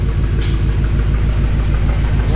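Idling engine of a modified BMW M5 F10, a loud, steady low-pitched rumble with a fine pulsing throb and no change in speed, heard close up with no talking.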